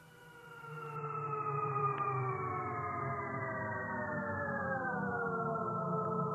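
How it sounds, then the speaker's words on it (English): BMW's futuristic electric car sound is a smooth, layered synthetic tone with several harmonic bands that glide slowly downward. It swells in from quiet and then holds steady and fairly loud, with no talking. "Thank you for premiering the new electric sound of BMW."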